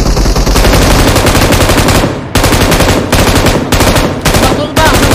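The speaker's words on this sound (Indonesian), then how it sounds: "Tembak terus dong, tembak terus." PUBG Mobile gunfire hammers away in sustained, very loud automatic bursts with only brief gaps between volleys, close up and dominating the mix.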